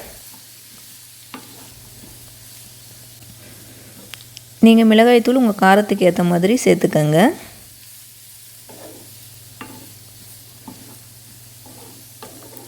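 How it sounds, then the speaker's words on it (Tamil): Chayote with coriander and chili powder sautéed and stirred in a pan: a loud burst of sizzling and scraping stirring for a few seconds, with someone talking quietly before and after over a low steady hum. "இதை நல்லா வந்து நம்ம வதக்கி விட்டுக்குவோம்."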